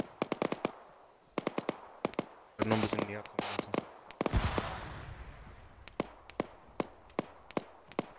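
Gunfire from the ArmA 3 military shooter, sharp single shots and short bursts spread throughout, mixed with a dense rattling volley midway, while someone talks over part of it.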